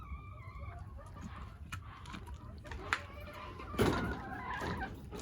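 Backyard hens clucking in scattered soft calls at close range, with a louder squawk near the end and talk in the background.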